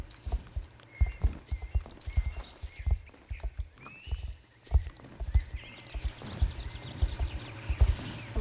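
Horse hooves clip-clopping in the online horse-riding video game Star Stable, a steady, repeated trot of hoofbeats with faint background game ambience, moderately loud and without speech.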